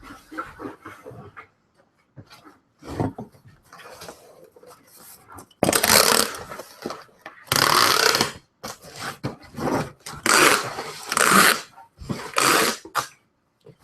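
Packing tape screeches loudly off the roll in several long rips while sealing a shipping box, with rustling, handling noises and quieter pauses between pulls.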